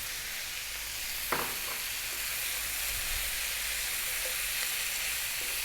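Kidney beans with oregano, cumin, chili powder and sweet paprika sizzle steadily in a pan over above-medium heat, with a brief scrape of stirring near the start and a continuous close frying hiss throughout.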